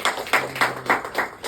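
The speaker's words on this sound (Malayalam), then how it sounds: "എല്ലാവരും ഒന്ന് കൈയടിച്ച്" Steady, rhythmic clapping from a group at a first birthday celebration: a run of about six even, moderately loud claps in a regular beat.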